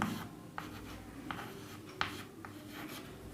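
Handwriting during a maths lesson: soft scratchy pen strokes come in short separate bursts, close and quiet, with faint room noise between strokes.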